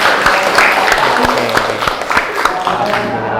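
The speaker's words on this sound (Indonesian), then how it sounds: "Oke, tepuk tangan dulu." A classroom of students claps, with distinct, uneven claps scattered over a murmuring background and some voices mixed in.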